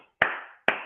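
Two crisp, close hand claps about half a second apart, a women's clapping pattern from West African tradition, each sharp attack fading quickly into a quiet room, with no voices.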